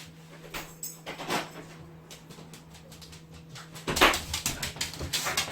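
Dog's paws tapping on a hard floor as it comes indoors, a series of faint, quick clicks in irregular bursts, growing busier toward the end, over a low steady hum.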